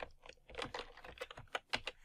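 Fingers type on a computer keyboard in a quiet room, a short, uneven run of soft, close key clicks with brief pauses between strokes.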